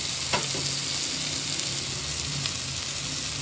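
Softened tomatoes frying in a pan, giving a steady close sizzle with light stirring scrapes throughout.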